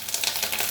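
Curry leaves crackle and sizzle in hot oil for a moment, a steady close-up frying hiss with small pops and no voices, while a fish curry with banana stem is being cooked.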